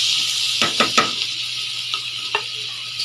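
Chopped onions sizzle in a hot pan for a Filipino home-cooked dish, a steady hiss with a few spoon-stirring clicks and scrapes, close by and without talk.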